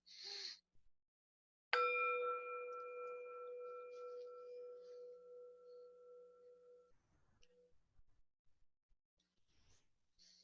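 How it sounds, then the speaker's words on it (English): A meditation bell is struck once, ringing out clearly with a long sustained tone that fades over about five seconds in a quiet room, followed by faint rustling. "I'll invite the bell, and we can also end it with a bell."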